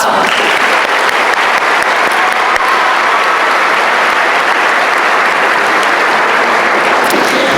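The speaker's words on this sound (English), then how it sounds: "Please give a round of applause." Sustained, loud applause fills a high school graduation ceremony as scholarship recipients are honored, a dense wash of many hands clapping at once without a break.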